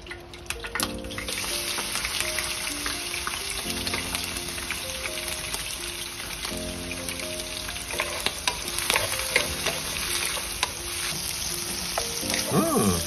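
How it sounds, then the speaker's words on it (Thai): Fresh shrimp frying in hot oil for pad thai, a steady close sizzle and crackle throughout, with occasional clinks of a utensil stirring in the pan and no talk. "ทอดกุ้งต่อเลยนะครับ"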